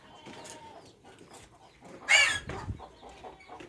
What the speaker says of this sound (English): that's a sasso cock which I'm crossbreeding with the rest of the locals